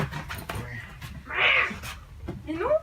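A cat gives a single clear, fairly close meow while being picked up and put into its box, with people talking before and around it.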